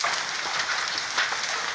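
Hailstorm in Austin, Texas, battering surfaces with a dense, continuous rattle of small impacts at close range, steady and fairly loud throughout.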